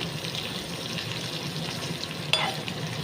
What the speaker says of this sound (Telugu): ఇలా పొట్టు అదే విధంగా ముక్కలు కూడా చక్కగా అయితే ఫ్రై చేసుకోవాలి ఆయిల్లోని